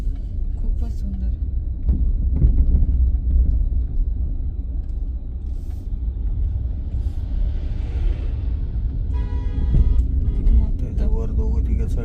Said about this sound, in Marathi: ती गाडी येते तिकडून